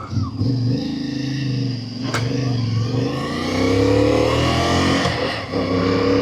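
A Moto Morini Vettore 450 motorcycle engine runs steadily and smoothly, its mid-pitched hum swelling slightly as revs rise and fall, loud and close, with a brief sharp click partway through.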